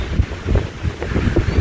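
Steady, heavy wind buffeting a microphone outdoors, a continuous low rumbling roar with gusty swells and no clear speech.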